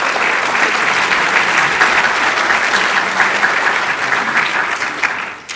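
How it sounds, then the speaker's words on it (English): A large audience claps steadily at the Zoning the City 2011 planning conference in New York City: dense, even applause that is loud and close, holding throughout before tapering slightly at the end. "I thank you for your applause, which you anticipated"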